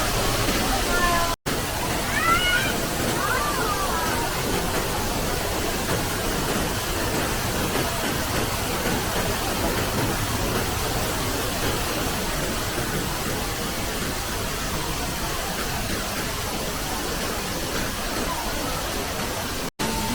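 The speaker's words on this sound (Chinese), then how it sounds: "近距离的看瀑布。" A waterfall at Jurong Bird Park in Singapore roars as a steady, dense wash of falling water, heard up close and filling the whole scene without pause.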